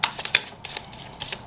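Tarot cards being shuffled in a few quick papery riffling bursts, close and fairly quiet, with no voices.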